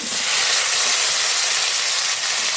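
Chopped onion and tomato hit hot oil seasoned with bay leaf and whole cumin for a Bengali egg curry, giving a loud, steady broadband hiss that holds without pause throughout.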